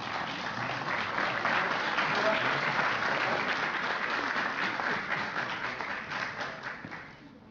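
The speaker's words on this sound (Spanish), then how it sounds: "Un fuerte aplauso para la doctora." Audience applause at a university scientific merit award ceremony, honoring a female doctor: dense, steady clapping from a large crowd that fills the whole stretch and tapers slightly at the end.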